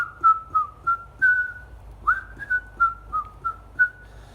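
A person whistles a simple melody of about a dozen short, clear notes in a steady rhythm with a brief pause midway, close and alone over a quiet low background hum.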